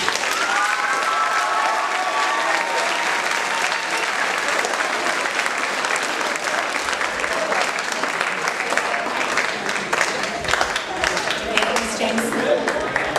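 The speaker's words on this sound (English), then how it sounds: "One final round of applause," Sustained audience applause at a middle school academic awards ceremony, dense steady clapping from a large crowd filling the whole stretch at full level.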